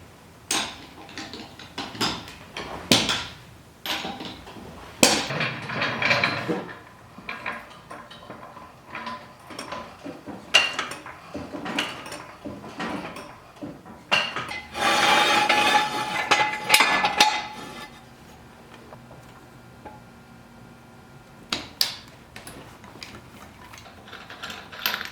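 Lug nuts come off a Jeep wheel and tire assembly during a ball joint job: a series of sharp metallic clanks, ratchet clicks and scrapes at close range, irregularly spaced, with a longer rattling burst midway.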